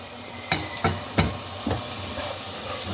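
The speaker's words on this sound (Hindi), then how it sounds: "इसमें थोड़ा सा पानी डाल दें ताकि मसाले जले ना और फिर इसको भून लें" Spices frying in a pan for keema pulao, a faint sizzle under a few close knocks of a spoon stirring against the pan.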